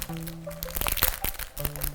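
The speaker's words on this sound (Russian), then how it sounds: "давай распакуем пакетик с пайетками" A plastic packet of sequins being opened by hand gives off close, crackly crinkling and sharp crunches in irregular bursts, with a faint steady tone in the background.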